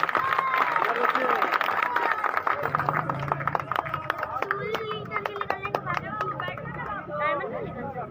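Crowd at an outdoor election rally for a ward municipal candidate claps and cheers, dense clapping mixed with loud babble and shouting voices, steady throughout.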